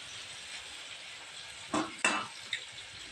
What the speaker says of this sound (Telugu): ముక్కలు కూడా మనకి పచ్చివాసన పోయేంత వరకు ఫ్రై అవ్వాలి టమాటాలు కూడా ఫ్రై అవుతుందండి